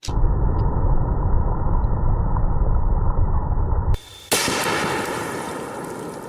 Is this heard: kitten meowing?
no